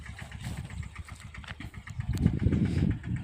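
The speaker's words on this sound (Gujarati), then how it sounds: "આપણે 500 વાળી માંડીમાં આજે ટ્રેક્ટર ચાલુ થયું છે" A farm tractor engine starts up and keeps running, a low chugging rumble that grows louder and heavier toward the end, with no voices.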